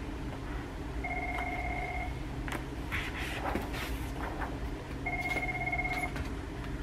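A telephone rings twice indoors while a classroom is being set up and paper is put on the walls. The bursts are loud and trilling, with light rustling and footsteps between them.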